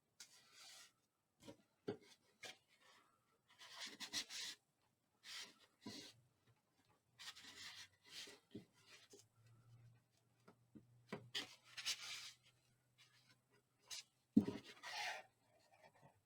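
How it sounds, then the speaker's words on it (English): Paper corners of a Thanksgiving mini album burnished with a tool, close dry rubbing and scraping strokes in short bursts separated by quiet pauses, with no talking. "burnish in those corners on the other piece also"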